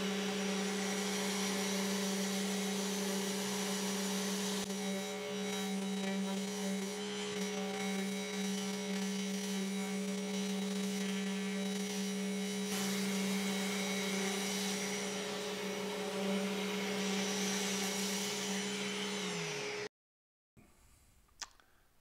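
A power sander runs steadily with a loud, continuous whine and hum across a CNC-cut walnut wood sign for about twenty seconds, then cuts off abruptly, followed by a short quieter stretch.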